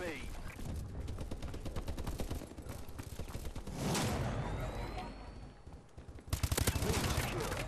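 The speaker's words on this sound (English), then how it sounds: "what did he use to shoot me? Oh my god, a submachine gun" Rapid bursts of submachine gun fire crackle during a Call of Duty: Advanced Warfare multiplayer match, dense at first, then a heavier burst near the end, with a player talking over the gunfire.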